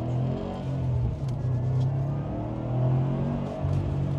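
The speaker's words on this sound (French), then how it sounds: "On va la démarrer et puis on va rouler." A Subaru WRX STI engine idles and runs with a deep, steady rumble and low throb close up, swelling slightly as if lightly revved, with no voices over it.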